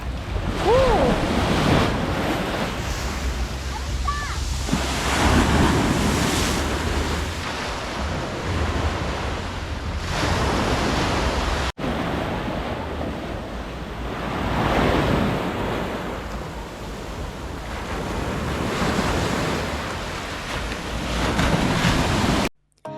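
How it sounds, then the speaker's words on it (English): Heavy ocean surf crashes and rolls continuously onto a beach near Ölüdeniz, Turkey, with gusty wind buffeting the microphone throughout. "The only downside was that the waves were too strong."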